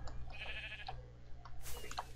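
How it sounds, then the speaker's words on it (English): Minecraft sheep bleats, a few short cries rising over a steady low background hum, with a second burst of bright noise near the end. "Come here, sheep. Come on, my little sheep."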